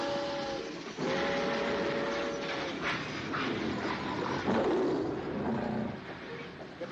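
Train running in a scene from the 1954 American film Ring of Fear, a continuous rumbling, rattling rail noise with brief whistle-like tones mixed in, steady and fairly loud throughout.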